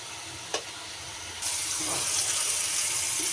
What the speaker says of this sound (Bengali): এখন আমি পেঁয়াজগুলি ভেজে নেব কুমড়াগুলি দিয়ে দেব